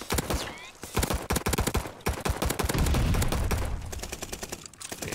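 A Nikita AVT rifle fires in Call of Duty Vanguard in loud, rapid automatic bursts of sharp cracks, with short pauses between volleys and a heavier rumble in the middle.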